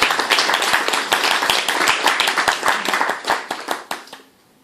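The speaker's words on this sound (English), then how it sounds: "I think that deserves an applause." Audience applause in a lecture hall honours a Master Bioinformatics student's prize for best presentation, with dense, steady clapping that continues for about four seconds and then thins into a few scattered claps before it stops.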